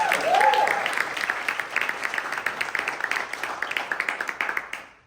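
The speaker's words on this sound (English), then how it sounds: "Give him another round of applause." An audience applauds at a team awards gathering, with a voice briefly at the start, then the clapping settles into a loosely rhythmic patter of many hands before quickly fading out at the end.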